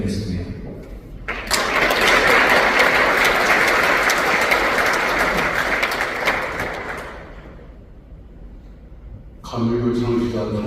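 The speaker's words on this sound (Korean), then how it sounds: "격려와 박수로 함께해 주시면 좋겠습니다." An audience at a Methodist church general assembly breaks into loud applause that starts abruptly, holds steady for several seconds, then fades. A voice resumes speaking after a short pause.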